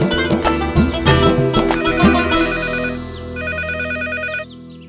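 A telephone rings loudly and repeatedly, an electronic trilling ring with a rapid warble, close by and without talk.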